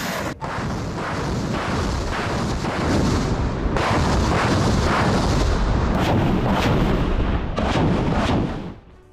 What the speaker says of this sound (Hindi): मिसाइल और आर्टिलरी हमले से दहला है सेवर्स्क